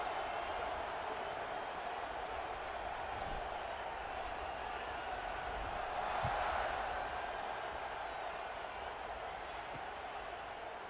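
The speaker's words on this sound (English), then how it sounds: "this crowd is buzzing after that last score" Crowd noise in a stadium from the video game College Football 26: a steady, continuous murmur of fans that swells briefly around the middle, with faint claps and distant cheering at a moderate, even level.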